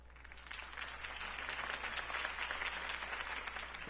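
Steady crowd applause and cheering in Telltale's Batman game fills the whole stretch, a dense wash of clapping from a large audience at a campaign speech, fairly distant.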